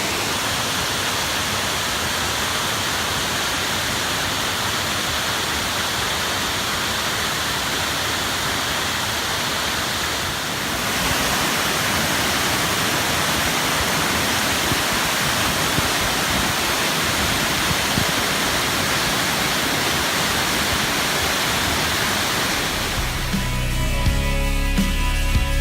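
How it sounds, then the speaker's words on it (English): Kings Creek waterfall roaring steadily at the base of the falls on a volcano hike, a dense continuous wash of falling water heard up close and loud throughout, with a brief handling change near the end. "Alright, so here we are right at the base of the falls."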